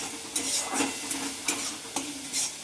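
Masala frying in oil in a pan for a tangra fish and aubergine curry, a steady close sizzle broken by regular scraping stirs of a spatula about every half second.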